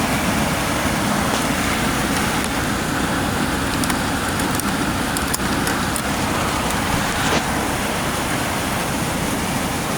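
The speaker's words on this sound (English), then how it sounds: "Doing some raining out there. Let her pour." Heavy rain pours steadily over a camp site, a dense, even hiss of falling water that stays loud and unbroken with no voices.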